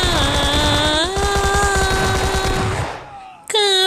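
Rapid automatic gunfire from the PUBG Lite online battle royale game rattles in a fast, even burst beneath a sustained tonal voice or music, then stops before a short tonal sound returns.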